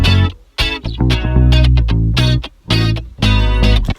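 Bass guitar and a chorus-washed electric guitar play together in a jangly indie-pop style, loud and up front, with the strummed chords and bass notes dropping out in short pauses.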